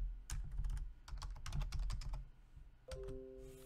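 Keys clatter on a computer keyboard in quick, irregular bursts while git commands are entered in a Linux terminal, the strokes close and crisp with short pauses and no speech.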